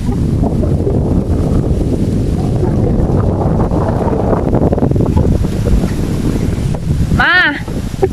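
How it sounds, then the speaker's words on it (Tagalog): Strong wind at a seaside spot in Cebu buffets the microphone in a loud, continuous roar from start to finish. A short, rising voice-like call cuts through near the end. "Mahangin talaga."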